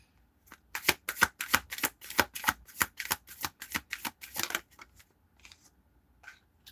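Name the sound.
tarot cards being shuffled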